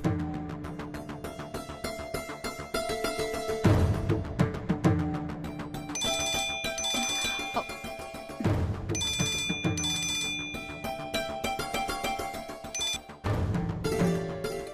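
A telephone rings repeatedly in bursts of bright electronic tones, the call going unanswered, loud and continuous with short pauses between ring cycles and no talk.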